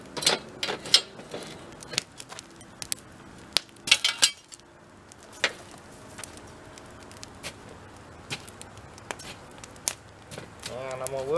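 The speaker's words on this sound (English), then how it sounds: "Now I'm going to remove the grate" A metal grate being lifted out of a barrel drum charcoal retort, giving scattered clanks, scrapes and metallic knocks of varying loudness, close by, with quiet pauses between.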